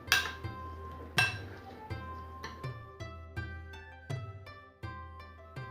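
A metal spoon clinks repeatedly against a dish while toasted sesame seeds are mixed into a Japanese cucumber sunomono salad, giving bright ringing taps in an uneven rhythm, close and clear with no talking.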